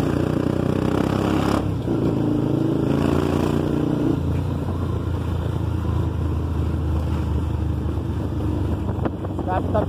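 Loud exhaust roar from a vehicle on the road heading to a fuel station, a continuous, near engine drone mixed with wind buffeting, with a voice talking over it.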